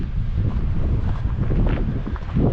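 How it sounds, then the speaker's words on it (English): Strong wind gusting on an exposed stretch of Scotland's east coast, buffeting the microphone with a heavy low rumble and uneven surges, no talk. "but I'm not quite sure, it's too windy."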